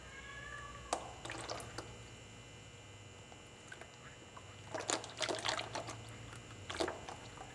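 Used oil draining from a Farmall 140 tractor, faint trickling and dripping with scattered splashes over a low steady hum.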